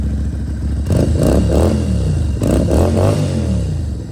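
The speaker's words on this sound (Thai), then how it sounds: "เสียงเพราะๆกันเลยครับสูบวีทวินครับ" A 2016 Stallions Buccaneer 250i V-twin motorcycle engine runs close and loud, rising in two quick throttle blips over a steady lumpy idle, with no talking.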